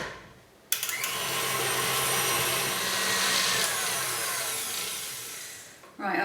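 An electric mixer beats butter, margarine and caster sugar for a cake, switching on abruptly with a loud, steady high whir that runs for about five seconds before cutting off.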